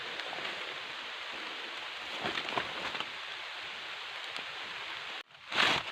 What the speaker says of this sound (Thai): แล้วกับฝนก็เริ่ม มาแล้วครับ พี่น้องเริ่มเริ่มลงเม็ด แล้ว ครับปอกแป๊กปอกแป๊กอยู่นี่